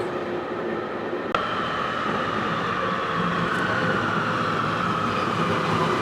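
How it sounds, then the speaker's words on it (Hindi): A Panama Metro train rumbles steadily through a station at midday, a broad continuous roar with a sharp click near the start, loud and close with no talking. "चलो आप लोगों को ट्रेन भी बताओ कैसी ट्रेन होती है।"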